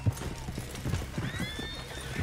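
A horse in the video game Red Dead Redemption 2 gallops with quick, rhythmic hoofbeats and lets out a neigh, close and moderately loud against faint background sound.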